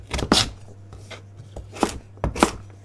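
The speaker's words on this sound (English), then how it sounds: "you want to chop it into really small little pieces" A knife chops sweet potato into small pieces on a board, five or six sharp, close thuds spaced irregularly with quiet gaps between.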